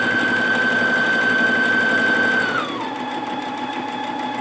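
A sewing machine runs steadily, stitching across layers of tote bag fabric, loud and close with a constant motor whir that drops in pitch as it slows near the end.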